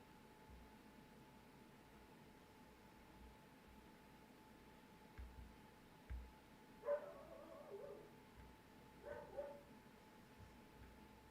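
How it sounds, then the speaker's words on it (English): A neighbour's dog barks a few times in the background, faint and some distance away, in short clustered bursts over a steady low hum with no one talking. "Sorry if you guys hear the barking."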